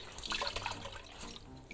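Water squeezed by hand from a wet wool sweater splashes and trickles into a sink, with a few close, irregular pours and drips over a soft running-water wash.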